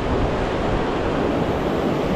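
Ocean waves at a fishing spot, a dense steady roar of surf with wind noise buffeting the microphone, loud and continuous throughout with no talking.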